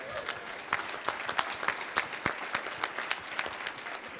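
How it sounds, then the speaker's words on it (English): Audience applause at a town hall event in Vancouver, a steady wash of many hands clapping with scattered sharper claps, moderately loud and continuous. "and yes, you can applaud."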